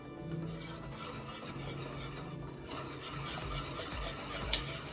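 A spoon stirs white sauce pasta with melting cheese in a pan, a continuous close scraping and sloshing with faint sizzle and no talking.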